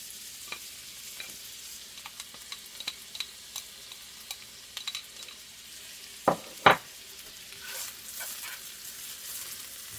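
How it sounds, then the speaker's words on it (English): Onions saute in melted butter in a pan, a faint steady sizzle broken by light taps and scrapes of a stirring utensil and a couple of sharper clinks, heard close with no talking. "when your butter melts, you're going to add your onions to the pan"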